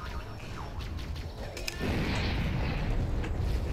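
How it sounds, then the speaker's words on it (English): In the Halo: Cursed Edition campaign, a deep, booming in-game explosion bursts in partway through, followed by a sustained rumbling roar that stays loud to the end. "Big explosion."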